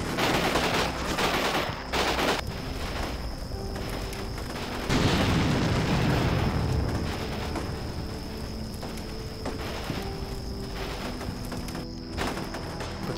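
Gunfire and explosions in the war game Combat Mission Shock Force 2, with repeated rifle and machine-gun bursts and booming blasts over a steady battle din for the whole stretch, with no voices.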